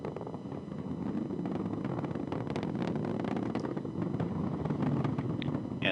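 An Atlas V rocket with its RD-180 engine climbs through supersonic flight about 40 seconds after a communications-satellite launch, giving a steady, dense broadband roar that holds loud and unbroken throughout with no voices.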